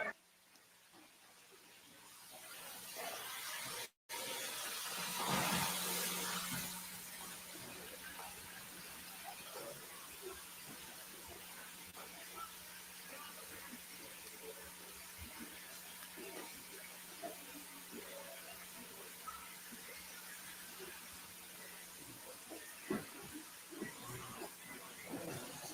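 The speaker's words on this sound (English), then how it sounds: "You want the water on? Yeah, you like the sound." Tap water running steadily into a sink, a continuous faint hiss lasting throughout, with a short louder burst near the start and a few faint voices underneath.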